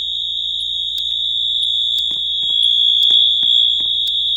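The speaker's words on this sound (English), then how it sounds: "Fire alarm number 2." A Wheelock AS fire alarm sounds inside a bank, a steady, piercing electronic tone held without a break and heard up close, with faint clicks and knocks in the background.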